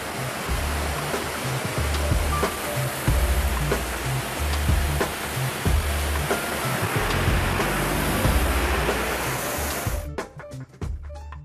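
A Kärcher HDS Compact hot-water pressure washer sprays with a loud, continuous hissing roar for about ten seconds, then cuts off abruptly, leaving a few trailing drips and clicks.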